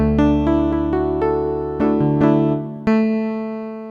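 A ring-modulated piano patch from a Roland D-10 synth plays a series of bright, bell-like struck notes that decay and stack up, ending with one last stronger strike that sustains, with no talking.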